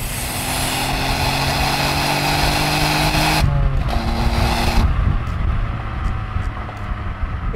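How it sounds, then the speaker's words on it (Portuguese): A 1987 Daihatsu Charade GTti with a turbocharged three-cylinder engine drives at speed, its exhaust droning loudly with shifting pitch and a drop partway through, under occasional voices. "Ouve-se lá atrás um escape a fazer..."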